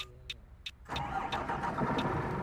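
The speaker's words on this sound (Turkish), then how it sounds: "Arabamızı çalıştırdık." In the game Fernbus Simulator, a few ticking clicks, then a bus engine cranks and turns over, settling into a steady mid-pitched idle with rhythmic clatter.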